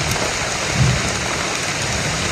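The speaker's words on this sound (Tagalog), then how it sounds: "Umuulan po mga tol." Steady, loud rain pours down in a continuous hiss, with a low rumble in the background.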